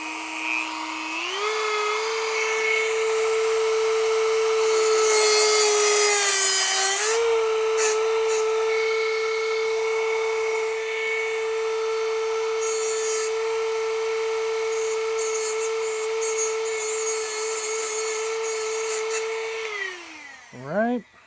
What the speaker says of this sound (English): Dremel. We'll go ahead and cut these down.